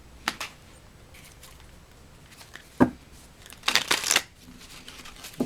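Tarot cards get shuffled close by in a few quick papery riffles and flicks, with short quiet gaps between bursts.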